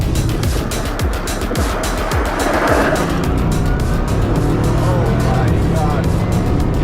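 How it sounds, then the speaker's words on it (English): A 2021 Bugatti Chiron Super Sport launches and accelerates hard, its engine and road noise a loud, steady roar heard from inside the cabin, rising continuously as occupants talk excitedly over it. "Oh It really launches, doesn't it?"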